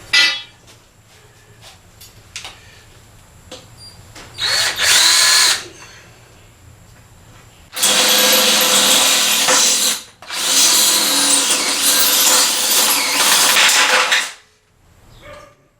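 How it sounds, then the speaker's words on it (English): Two long bursts of a power drill grinding through the metal frame of a 125cc drift trike, preceded by a shorter burst and scattered clanks in a quiet workshop. "now I'm going to drill some holes in the frame"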